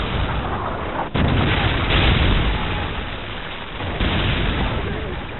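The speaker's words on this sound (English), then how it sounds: "Friendly predator missile inbound." A predator missile strike in the video game Call of Duty, on the Bakaara map, comes through as a dense continuous rumble of blasts and booms with a sharp crack near the start, loud and close, with a voice heard faintly in the mix.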